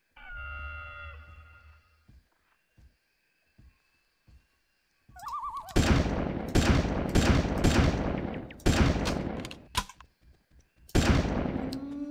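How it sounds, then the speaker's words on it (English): Rifle fire while hunting a dinosaur in the video game Carnivores 2+: after quiet in-game ambience with a few soft clicks, loud close shots ring out in rapid repeated bursts, with brief pauses between volleys. "did unload a lot of rounds to finally get it down"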